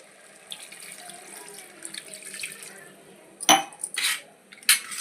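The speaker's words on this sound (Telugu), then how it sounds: "ఇప్పుడు ఒక గ్లాస్ వాటర్ పోసుకోవాలి." A glass of water is poured into a pot of chicken biryani masala, making quiet splashing and trickling with a few sharper bursts and light clinks of utensils near the end.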